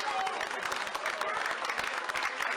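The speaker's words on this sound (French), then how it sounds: "On peut l'applaudir." An audience applauds a graduate at a Collège Saint Joseph La-Salle ceremony with dense, steady clapping throughout, fairly close and even in loudness.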